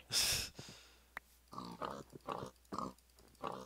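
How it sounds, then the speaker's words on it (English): Pigs in Minecraft oink and grunt in a run of short, close, clear snorts, coming one after another after an opening rush of noise, with no talk. "there are a lot of freaking pigs"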